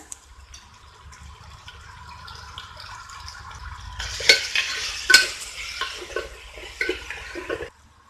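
Turmeric and sambar powder are sautéed in a pan for Tamil dal rice. Faint background hum gives way midway to louder scraping stirs and light sizzling.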